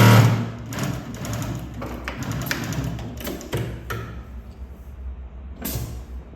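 A Mauser Spezial industrial sewing machine stitches in a run of rapid mechanical bursts, then falls quieter for a moment before one more short stitching burst near the end.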